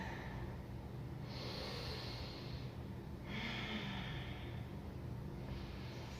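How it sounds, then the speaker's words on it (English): Deep, slow yoga breathing in a power vinyasa session, two long audible breaths with airy rushing inhales or exhales, close and soft, no talk. "Take a few breaths here. Really use that breath."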